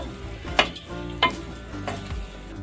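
A spatula stirs oily brinjal masala (enne badanekayi gojju) in a frying pan, with a few distinct scraping strokes over a soft, steady sizzle and no talking.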